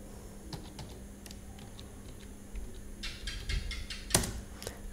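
A password is typed on a computer keyboard, with scattered soft key taps, a quicker cluster of clicks near the end and one sharp keystroke like an enter press, all close against quiet room hum.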